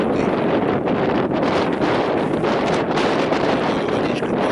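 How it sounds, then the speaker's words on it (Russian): Strong wind buffets the microphone outdoors by the sea during a metal-detecting dig, a loud, continuous roaring rumble with gusty surges and no clear talk. "Ветер сильный."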